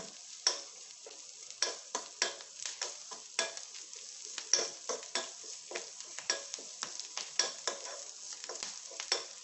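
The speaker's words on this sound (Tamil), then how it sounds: "கொஞ்சம் சாஃப்டாகிற வரைக்கும் வணக்கி விட்டுடலாம். கலரும் சேஞ்ச் ஆகாது இந்த நெய்யில் வறுக்கிறதுனால" Betel leaves sauté in ghee in a pan, a soft steady sizzle broken by repeated scraping stirs of a spoon, close and rhythmic with no talking.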